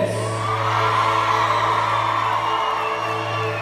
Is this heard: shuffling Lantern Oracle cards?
no